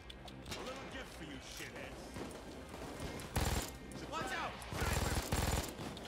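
Gunfire in Payday 2, with several loud bursts of rapid shots cutting in and out, heard beneath and between people chatting throughout.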